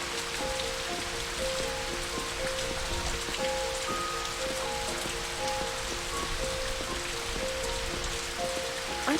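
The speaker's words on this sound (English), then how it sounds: "I want to hear the raindrops falling on my door." Steady rain falls on a surface in the video game Know by Heart, a dense continuous patter with a faint tonal hum underneath, even and unbroken throughout.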